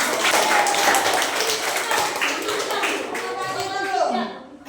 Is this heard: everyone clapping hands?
yes